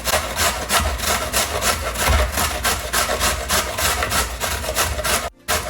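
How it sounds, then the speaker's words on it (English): Washed, unpeeled carrots are rubbed quickly against a grater in a continuous, even rasping rhythm. The scraping stays close and loud for several seconds, then breaks off briefly near the end. "we're all done grating these carrots"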